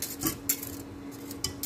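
Metal whisk stirring a flour mixture in a pot on the stove while making lavash lasagna, soft scraping with a few light clinks against the sides, quiet and close.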